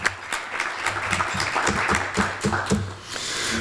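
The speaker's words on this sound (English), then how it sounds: "So let's give her a warm round of applause for joining us." Audience applause at a Pasco Chamber of Commerce monthly luncheon, a steady room-wide patter of clapping with some low voices and clatter underneath, fading near the end.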